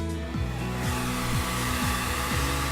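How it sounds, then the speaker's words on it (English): A heat gun blows hot air onto vinyl wrap at the corner of a car hood, a steady close airy whoosh with a low motor hum underneath and rhythmic tonal sweeps, no voices. "I will heat the vinyl here, which will allow it to come down over the corner without any wrinkles"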